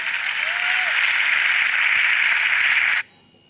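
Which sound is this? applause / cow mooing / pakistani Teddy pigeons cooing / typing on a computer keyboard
applause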